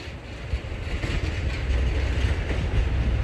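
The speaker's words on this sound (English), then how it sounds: "Class 14 Teddy Bear, D9551, this time arriving into Erdington to pick us up on the local." Class 14 diesel locomotive D9551 rolling into Erdington station on the Severn Valley Railway, a steady close rumble of engine and wheels with rail clatter building slightly over about three seconds, no voices.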